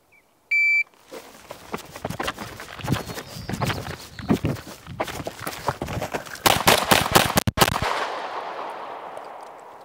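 A shot timer gives a brief electronic beep, then a CZ P-01 Omega pistol fires a rapid string of sharp, loud shots in quick bursts, with outdoor echo trailing between shots.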